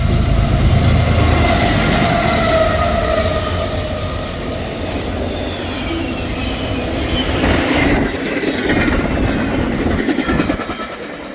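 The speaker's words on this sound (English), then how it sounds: "Shortly after, I would catch another eastbound intermodal being led by a DC G-Mo." An eastbound intermodal freight train led by a DC G-Mo locomotive rolls past close by, a loud, steady rumble with wheel clatter and rail noise that holds for the whole stretch, no voices.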